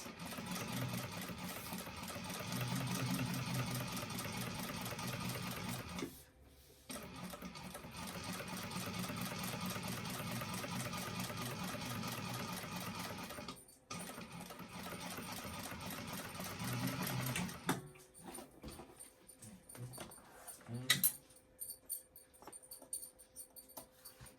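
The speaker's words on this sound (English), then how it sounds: "right sides together, pin it, sew it 3/8 of an inch seam allowance" A sewing machine stitches a bag seam, running in long continuous bursts with short pauses between them, then giving way to lighter rattles and clicks toward the end.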